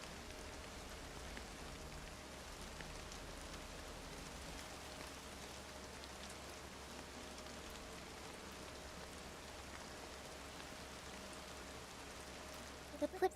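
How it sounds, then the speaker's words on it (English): Steady rain and raindrops pattering in the video game Infinity Nikki, a soft continuous hiss of drops with no voices. "The plips and plops of raindrops."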